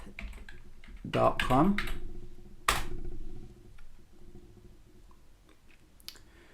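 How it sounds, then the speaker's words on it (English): Keys clatter on a computer keyboard in a brief flurry of close, quick taps as a web address is typed, followed by a sharper click and scattered faint ticks in a quiet room. "Just got to type the URL in and netacad.com."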